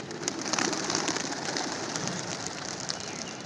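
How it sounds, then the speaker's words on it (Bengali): Racing pigeons at a loft, a steady wash of soft cooing and fluttering bird activity with no talk, close and fairly even throughout. "কবুতর ফর্মে আছে মাশাল্লাহ"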